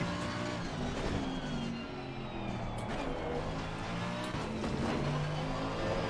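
Race car engine in Assetto Corsa Competizione, a steady loud drone with shifting harmonic tones as it revs and holds speed, with faint tire noise underneath and no talking.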